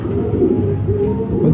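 Racing pigeon cooing close by, a low soft throaty coo that rolls on continuously through the short moment.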